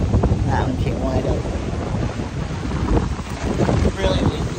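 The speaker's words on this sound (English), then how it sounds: "Really windy." Strong wind buffets the microphone with a steady roar on the deck of the cruise ship Carnival Luminosa, mixed with rushing water and the rumble of the moving ship, loud and continuous throughout.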